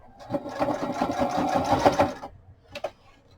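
A sewing machine running a zigzag stitch on a small paper file folder project, a steady close mechanical whir for about two seconds, then stopping, followed by a brief click.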